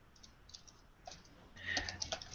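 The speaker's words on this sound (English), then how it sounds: "she can hear her typing" Soft clicking keystrokes, quiet at first and then a denser, louder burst of rapid typing toward the end.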